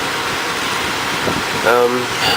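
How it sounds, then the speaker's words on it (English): A steady hiss of air blowing from the air conditioning vents of a 2001 automatic Honda Civic fills the clip, with a brief voice sounding near the end. "It's the air conditioning."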